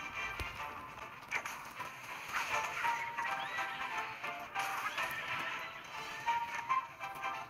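Horse neighing and hoofbeats from the Wildshade horse racing video game: a loud whinny rises over steady galloping clip-clop, with more neighs and hoof thuds continuing throughout.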